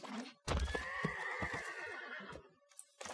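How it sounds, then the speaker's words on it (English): Game sound effect of a horse card in Magic: The Gathering, a loud, close whinny with a trailing neigh, followed by short clip-clop hoof sounds. "nice little horsey sound there"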